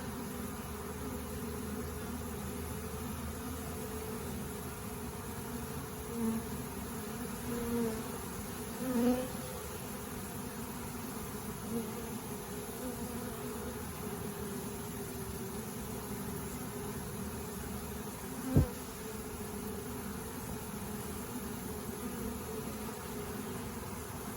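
A honeybee swarm being hived in cool weather, a dense steady buzzing hum close by, with a few faint knocks and one sharp tap against the box, no voices.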